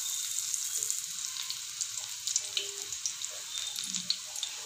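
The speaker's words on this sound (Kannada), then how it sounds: "ಈಗ ಒಂದೊಂದೇ ಬೋಂಡ ಹಾಕ್ಕೊಳ್ಳಿ, ನಿಧಾನಕ್ಕೆ ಹಾಕ್ಕೊಳ್ಳಿ" Green bondas, a crispy Karnataka-style snack, frying in hot oil, giving a steady soft sizzle with faint bubbling pops throughout, quiet and continuous with no talking.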